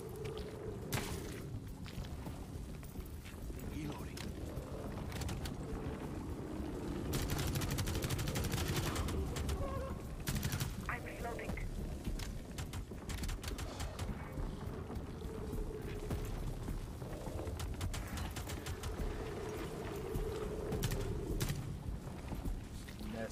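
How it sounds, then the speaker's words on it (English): Gunfire in the video game Rainbow Six: Extraction, dense bursts of rapid shots layered over a continuous rumbling game soundscape, loud and sustained throughout. "Is he shooting at me?"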